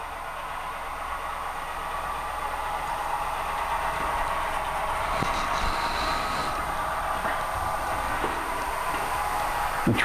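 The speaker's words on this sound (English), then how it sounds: "The train is now coming into the West Eden area." An HO scale model train of a Southern Railway branch layout runs steadily along the track near a quarry loadout, a continuous faint rolling rumble with light ticking clicks from the wheels throughout.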